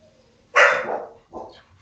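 A dog gives two barks close by, a loud sharp one followed by a shorter, softer one, in a quiet room during a casual tequila tasting.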